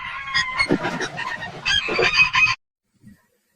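A cartoon chicken squawks and flaps in a busy, loud burst as it is caught, lasting about two and a half seconds before cutting to silence.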